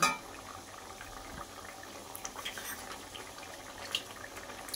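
A curry with fish and potatoes bubbling in a pot, a soft, steady simmering burble with faint liquid movement, quiet and close, with no voices.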